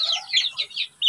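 Backyard chickens give a quick run of about five close, bright clucks in a small yard coop, clear and alone with no other sound.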